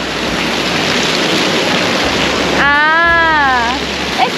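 A natural waterfall at Apanteos in Santa Ana pours in a steady, loud, close rush of water, and a voice rises briefly over the roar near the end.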